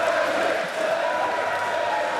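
Festival crowd at Bloodstock 2024 cheering for a statue of Lemmy, a steady, dense roar of many voices with scattered shouts holding evenly throughout.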